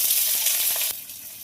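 Chopped onion with bay leaf, dried chilli and cumin sizzling loudly and continuously in hot oil, with a slight drop in intensity near the end.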